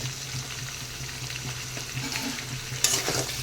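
Potatoes with onion, salt and turmeric fry in a pan with a constant soft sizzle, stirred now and then with light scrapes, plus a sharper clink near the end.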